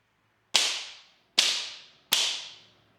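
Three sharp, loud cracks from a wooden school paddle land about a second apart, each snapping hard and then ringing off quickly into silence.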